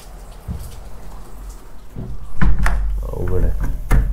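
Rain falls steadily on surfaces during a motorbike trip from Pokhara toward Ayodhya. Scattered knocks and thuds sound close by over the rain.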